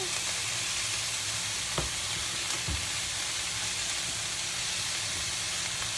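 Turkey meatballs frying in a pan give a steady close sizzle throughout, broken by a couple of brief soft clicks or scrapes as they are turned.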